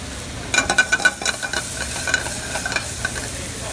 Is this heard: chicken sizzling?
yes